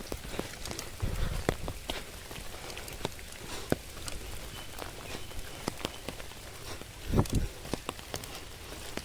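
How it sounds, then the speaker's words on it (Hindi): Steady rain falls on a road while someone walks along it under an umbrella, with soft patter, scattered drop hits and occasional footsteps at a moderate level. "बारिश हो रही है और बारिश में कोई भी नहीं निकलता है"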